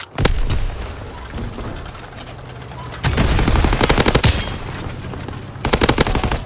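Gunfire in a firefight in the video game Call of Duty: WWII: a loud early shot, then rapid machine-gun bursts around the middle and again near the end, with shouted voices over the battle.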